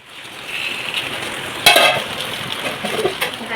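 Potatoes and spices sizzle softly in a pan as a little water is added for braising, a low hiss rising into a sharper burst of spitting steam, with faint scraping, close by and without talk.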